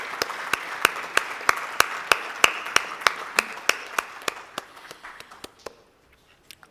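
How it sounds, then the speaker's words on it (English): An audience applauds at the closing session of The Future Summit, 6th edition: dense crowd clapping with sharp, evenly spaced claps on top, then it thins and fades out near the end. "Can you please clap for yourselves?"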